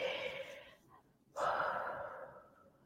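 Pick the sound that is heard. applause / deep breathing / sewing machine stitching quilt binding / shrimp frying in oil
deep breathing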